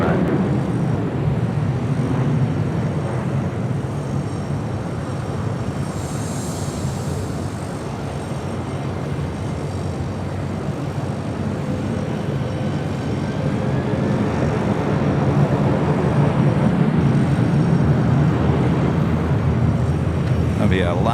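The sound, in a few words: United airliner at LAX runway 24 left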